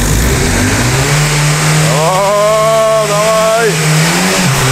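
A car engine running during an engine wash revs loudly and steadily, climbing to a higher whine in the middle before settling back, with a man calling out over the noise.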